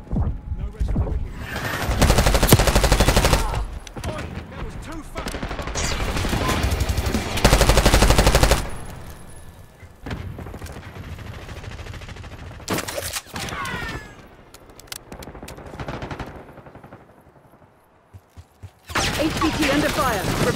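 Gunfire in Call of Duty Black Ops 6: loud bursts of automatic fire and single shots, coming in irregular clusters between quieter gaps, with in-game radio voices talking throughout.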